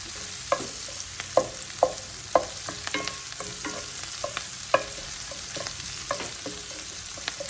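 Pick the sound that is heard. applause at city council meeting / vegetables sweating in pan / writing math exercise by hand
vegetables sweating in pan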